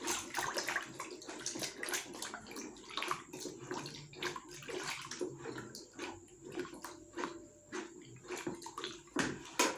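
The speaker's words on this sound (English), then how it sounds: "So we're going to stir this and make sure it's properly dissolved." Liquid soap mixture being stirred in a container to dissolve it for making rig wash, a continuous wet sloshing and swirling of liquid with irregular splashy pulses.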